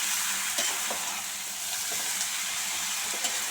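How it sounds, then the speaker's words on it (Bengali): Bottle gourd leaves stir-fried in a pan, a loud continuous close sizzle with occasional soft clanks and scrapes of stirring. "শাকগুলোকে ভালো করে নেড়ে চেড়ে মিশিয়ে নিতে হবে, ভালো করে নেড়ে চেড়ে একটু মিশিয়ে নিতে হবে।"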